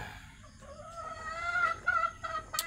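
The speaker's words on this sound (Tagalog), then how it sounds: "Oh, ayan yung manok ko." A chicken clucks in a series of short, nasal calls, rising toward the end, fairly close with a faint outdoor background.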